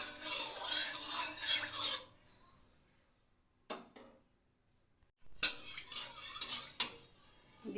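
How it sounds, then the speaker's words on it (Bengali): A metal wok is set on a stove for mustard oil, making close scraping and clattering bursts that are separated by quiet gaps, ending in more rattling clinks. "কড়াই বসিয়ে দিয়েছি, সরষের তেল দিয়ে দেবো"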